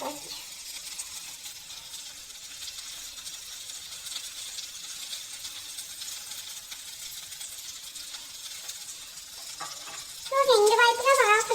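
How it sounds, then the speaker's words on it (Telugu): Fish pieces coated in cornflour frying in oil, a steady soft sizzle throughout that grows louder near the end, with clinking and stirring as chillies and curry leaves are added. "మనకి ఫిష్ పీసెస్ అనేవి బాగా ఫ్రై అయ్యింది"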